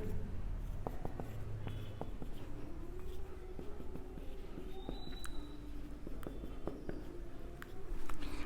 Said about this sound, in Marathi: तर मी लिहितोय स्टेटमेंट